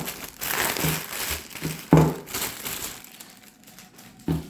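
A plastic package wrapped in bubble wrap is unwrapped, giving close, irregular crinkling and rustling with a few sharper crackles and scrunches, louder at moments and quieter between.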